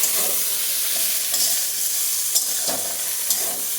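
Potatoes stirred while frying in a pan with lentil fritters and banana flower, a steady loud sizzle broken by several spatula scrapes and soft knocks, close and unaccompanied by speech.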